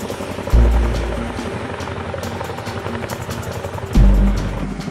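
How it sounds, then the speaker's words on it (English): Loud, steady thumping rotor roar of a large twin-rotor helicopter close by, with deep surges in the low rumble at two moments. "CH-47 Chinook cargo helicopter"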